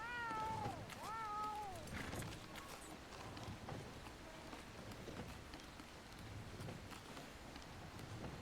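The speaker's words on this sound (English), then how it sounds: "This is a very big cat." A large cat in Red Dead Redemption 2 roleplay lets out two or three drawn-out, wavering meows early on, loud and close over a steady ambient bed of game rain and hoof clatter that continues after the calls stop.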